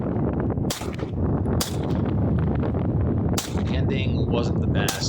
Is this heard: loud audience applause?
no